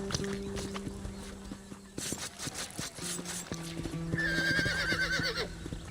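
A horse in the Red Dead Redemption video game whinnies loudly while hooves clip-clop in a steady rhythm, close and clear, with no talk over it.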